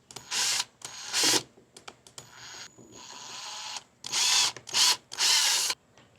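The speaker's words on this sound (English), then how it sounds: "all I'm going to do is just screw in the screws here to kind of hold that in" Screws driven in with a power drill while fitting a DIY outdoor charging box, heard as five or six loud whirring bursts of about half a second each, with one longer, softer run between them, close up and with no talk.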